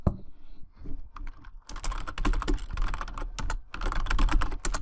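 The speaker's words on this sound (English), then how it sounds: "let's start typing in the information that we need." Typing on a computer keyboard to enter information into a table in Word, starting with a few sparse taps after a quiet moment, then becoming a fast, close, continuous clatter of keystrokes.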